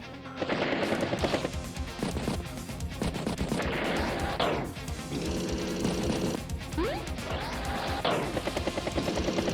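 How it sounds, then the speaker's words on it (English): A neo tank attacks an anti-air unit in Advance Wars, rapid bursts of machine-gun-like game fire and clattering battle effects rattling on in dense, loud waves, with sweeping electronic zips cutting through. "Neo tank strikes anti-air."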